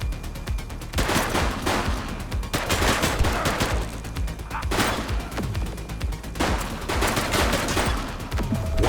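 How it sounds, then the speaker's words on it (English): Sustained gunfire in a police shootout after a bank robbery in the video game The Precinct: dense, loud bursts of automatic and rapid shots fill the whole stretch, with brief lulls between volleys. "police are engaged in a fierce shootout following yet another bank robbery"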